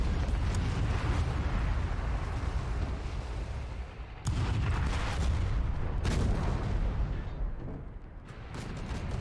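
A tank struck by a shell during a World War II German-versus-Russian city battle in a strategy video game, heard as heavy booming impacts and rumbling artillery bursts, loud and continuous with sharp blasts near 4, 6 and 9 seconds.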